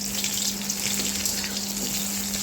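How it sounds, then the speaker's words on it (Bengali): Halved onion frying in hot oil, a steady, continuous hiss and sizzle at even loudness throughout, close by, with a faint low hum underneath and no talking. "তো এই দেখতে পাচ্ছ পেঁয়াজ ফোড়ন দিয়ে দিয়েছি"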